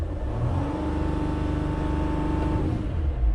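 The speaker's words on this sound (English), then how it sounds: "So let's see if we can actually rev this thing over 3000 RPMs." A Mercedes Sprinter van engine with a wiring fault revs steadily and loudly, a sustained mid-pitched drone that holds for about three seconds and then eases slightly, with no one talking.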